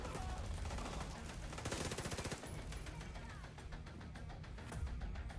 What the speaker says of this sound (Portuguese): Eu tô atirando no lá atrás